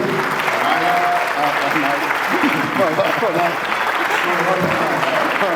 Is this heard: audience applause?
yes